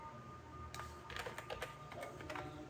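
Typing on a computer keyboard: after a short quiet pause, a run of soft, irregular key clicks follows in quick succession, faint and close, with no voices.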